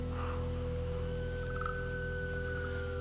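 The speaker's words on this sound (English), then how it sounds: "Hear that in the background? Those are sandhill cranes." Sandhill cranes call in the distance from a rainy forest at dusk, giving rattling, gobble-like cries that are faint under a steady droning background.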